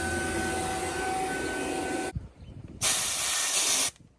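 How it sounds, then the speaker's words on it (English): Air hisses loudly from a mini split charging hose, a steady close spray for about two seconds, a brief pause, then a second shorter burst of bright hiss that cuts off abruptly. "Let the air out of the hose."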